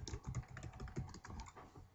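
Fast typing on a computer keyboard, a dense patter of close clicks with brief uneven pauses and no voices.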